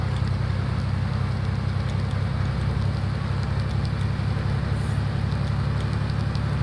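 Steady rain falls in the Farming Simulator 19 video game, a continuous even patter over a low rumbling bed, with no one speaking.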